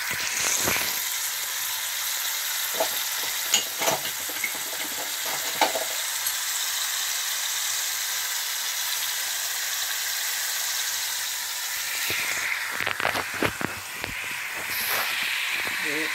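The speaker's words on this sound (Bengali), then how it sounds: "এবার আমি টমেটো বাটাটা একটু ভাজা" Ground tomato paste fries in a pan for a fish curry, a soft steady sizzle with occasional scraping stirs near the start and end. Faint talk comes through underneath.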